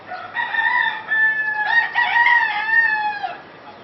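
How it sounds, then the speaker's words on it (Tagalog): In a chicken pen, a rooster lets out one loud, close crow lasting about three seconds, with no other sounds around it. "Yan yung manukan dito."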